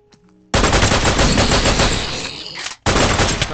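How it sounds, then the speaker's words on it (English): Rapid automatic gunfire in the Minecraft Jurassic Craft mod, a loud, dense burst of shots lasting about two seconds, a brief gap, then another burst, with no talking. "Shooting."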